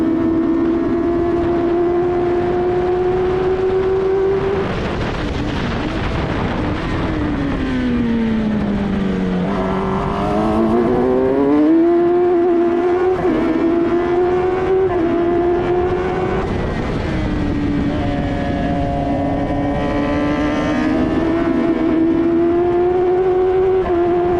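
F1000 race car on track at Snetterton, heard onboard, its engine screaming loud and close as it rises through the gears, dipping and climbing again with each shift and braking phase.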